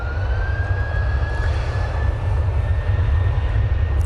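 A Ryanair airliner in special livery arriving at Manchester Airport, its steady low engine roar loud and continuous with a thin whining tone running over it, no talk.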